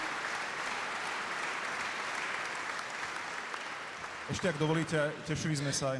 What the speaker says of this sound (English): An applause to Juraj Filas in memoriam.